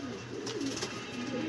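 Pigeons coo in a loft, a steady low rolling murmur of overlapping calls filling the short stretch at close range with no talking.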